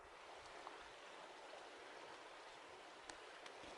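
Stream water flowing at a river crossing on the Pacific Crest Trail, a faint, steady distant rush with a few soft clicks, no voices.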